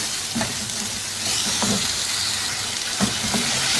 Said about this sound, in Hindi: इस चिकन को अब 3-4 मिनट अच्छी तरह से भून देंगे।